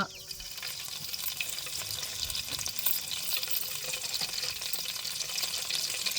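Thinly sliced onions frying in a pan for a country-chicken pepper broth, giving a steady, fairly loud crackling sizzle with some stirring and watery splashes throughout.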